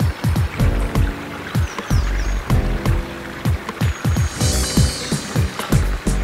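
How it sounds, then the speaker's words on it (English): A ratcheting clamp on a wooden drum riser clicks rapidly and steadily in short bursts, close and crisp, with no talk over it. "clamp them in"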